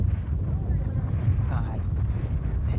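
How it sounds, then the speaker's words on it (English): Strong gusting wind buffets the microphone at an under-11s rugby cup final on an open pitch, a continuous low rumbling roar with no breaks. "Conditions extremely windy this afternoon, blowing everything about."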